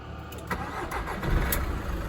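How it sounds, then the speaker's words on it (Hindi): A Volkswagen or Skoda diesel car engine cranks and catches, then settles into a steady mid-pitched idle, close and fairly loud with no talking. "ये कर दिया अपन ने स्टार्ट कार को"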